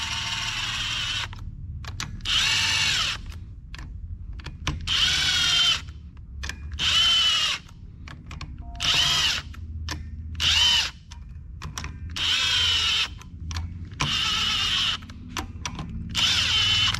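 A power drill runs in repeated short bursts while driving clutch cover screws on a 2020 GSXR 1000, each whirring spin lasting about a second with ratcheting clicks and brief pauses between, close by and without speech.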